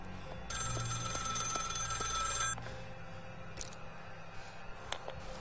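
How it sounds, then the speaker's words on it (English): A telephone rings in the Maid of Sker video game, one loud, sustained electric bell ring lasting about two seconds, then dark, quiet game ambience with faint clicks. "Why are we getting a phone call?"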